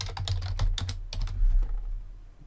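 Someone types on a computer keyboard, a close burst of quick irregular key clicks that thins out into a faint hum near the end.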